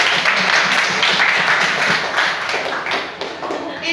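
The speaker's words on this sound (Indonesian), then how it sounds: "Kita tepuk tangan untuk" Classroom students clap together after a lesson on ritual purity, a loud, busy patter of many hands that thins slightly toward the end.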